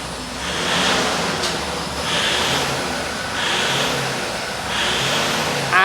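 A Toyota Fortuner GD diesel SUV revs from idle in four loud, close, evenly spaced surges, each rising and falling back over a steady engine rumble.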